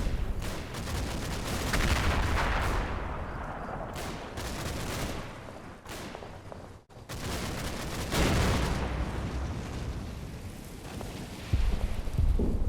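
Heavy gunfire from an assault gun pounding an immobilised Achilles tank in the Combat Mission: Battle for Normandy game, a dense run of loud booming shots and rumbling impacts with a brief lull partway through.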